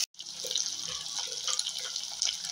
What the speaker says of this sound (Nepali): अब मैले यसमा थोरै पानी लगाउँछु।